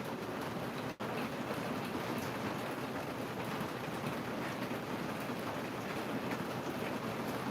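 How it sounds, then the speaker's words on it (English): Steady rain falls outside at night, a dense, even hiss with no distinct drops standing out, continuous for the whole stretch apart from one brief dip near the start. "Can y'all hear the rain?"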